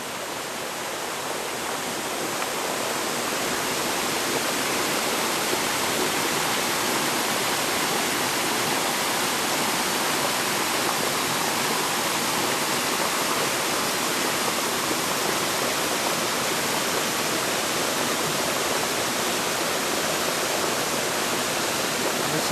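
Raven Cliff Falls rushes in a steady, dense roar of falling water, loud and continuous throughout with no voices.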